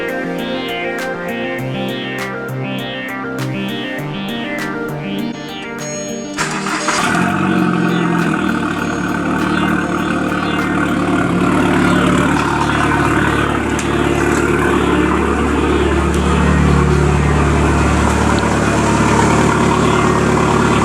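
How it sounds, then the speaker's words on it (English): A Volkswagen Jetta engine cranks briefly, then catches and settles into a loud, steady idle with a low rumble that holds for about fourteen seconds, close by with no talking. "turn the key in the ignition"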